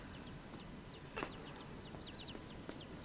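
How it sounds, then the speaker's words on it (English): Video game birds that sound like chickens, giving repeated soft clucking chirps at a low level over a quiet ambient background, with a couple of brief sharper calls. "Oh, no, they're not chickens. They're actual just birds."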